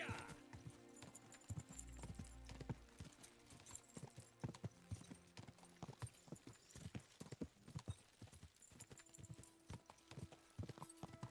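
Steady clip-clop of horse hooves trotting at an even pace in the video game Kingdom Come: Deliverance 2, with game music and a voice talking faintly underneath.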